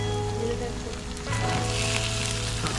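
Onion, tomato, green chili and capsicum sizzle in a pan at an outdoor picnic, a steady broadband hiss with a low background hum, and faint voices in the background.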